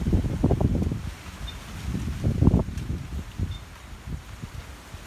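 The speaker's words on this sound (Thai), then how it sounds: "ลมแรงมากๆ" Gusty wind roars and buffets the microphone in uneven surges, with a faint rustle of leaves underneath; no talking.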